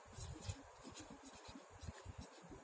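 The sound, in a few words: writing on a board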